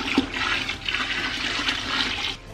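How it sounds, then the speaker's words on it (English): About two liters of boiling water poured into a bucket for sugar-dissolving while making feijoa wine, a steady close rushing splash with a gurgling fill that runs continuously throughout. "into that I am going to stir in about 2 liters of boiling water"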